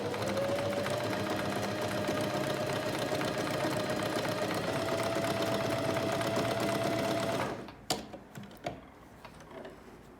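An Alfa Practik 9 sewing machine runs a close, steady whirring stitch for about seven seconds, then stops, followed by a few sharp clicks and taps.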